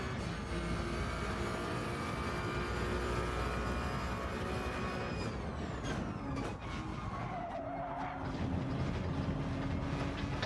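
Ferrari Gr.1 race car engine at Spa in Gran Turismo 7, a sustained high-pitched wail holding steady and loud, with a gear shift and pitch drop midway before climbing again, no talking.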